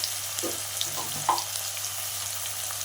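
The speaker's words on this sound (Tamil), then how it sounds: "நம்ம கூட தக்காளி சேர்த்து நல்லா வதக்கிக்கலாம்" Onion, green chili and tomato sautéing in a pan give a soft, steady sizzle close by, with a few light stirring scrapes and clicks over a low background hum.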